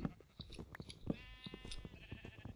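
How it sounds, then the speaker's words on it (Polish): Sheep bleating in the Minecraft video game, a few short, quiet bleats over soft chewing and crunching sounds. "owca mi teraz drewno zeżarła"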